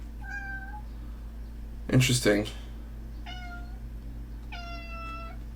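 A pet cat meows several times close by in a quiet room, short tonal calls separated by pauses, with a brief clatter in between and a person speaking softly.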